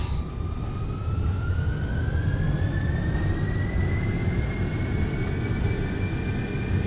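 MD-11F freighter jet engines spooling up to takeoff thrust in a flight simulator, a steady loud roar with rising whine tones climbing through the run, continuous and close with no talking.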